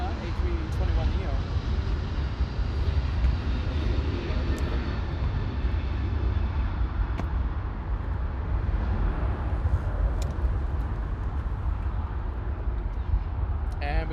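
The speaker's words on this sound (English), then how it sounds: "Delta 311 flying to Kona, A321neo." A Delta Airbus A321neo bound for Kona rumbles past as a deep, continuous jet roar, loud and fairly close, with a few brief clicks and no clear talk over it.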